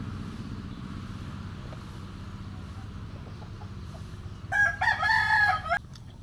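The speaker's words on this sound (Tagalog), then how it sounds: "huni ng mga manok, mga ibon" A rooster crows once, a clear drawn-out cock-a-doodle-doo at moderate distance, over a steady low hum of background noise.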